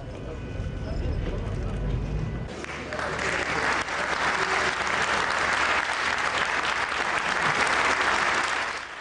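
Applause greets Alexis Tsipras on his return, a broad, sustained burst of clapping that rises abruptly after a few seconds of murmuring, low rumbling crowd noise and stays strong throughout.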